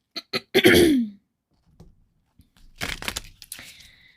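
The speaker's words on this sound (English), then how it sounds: "I beg my pardon if I keep clearing my throat" A person clears their throat several times up close, a few short sharp bursts followed by a longer rough rasp, then another throaty clearing after a brief pause.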